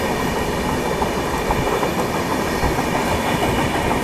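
Tamil Nadu Express running in parallel with another train just after departing New Delhi, a loud, steady rumble of wheels and carriages with rhythmic clatter, close and continuous without voices.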